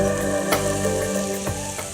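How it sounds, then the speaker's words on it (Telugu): Fenugreek leaves go into a hot pan for besan chutney, giving a loud, steady sizzle with a few sharp crackles and stirring scrapes close by. "ఆ తర్వాత మెంతి కూర వేసేసుకున్నాం."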